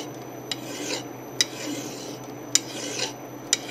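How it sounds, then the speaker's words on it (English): Metal file rasping against a part spinning in a lathe during a Yamaha 100 Trailmaster clutch basket repair, with soft scraping strokes and a few sharp metallic ticks over a steady low machine hum. "I'm just going to take a file and kind of work it down here in the lathe real quick"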